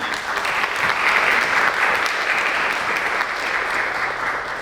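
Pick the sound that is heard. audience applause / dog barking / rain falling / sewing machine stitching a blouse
audience applause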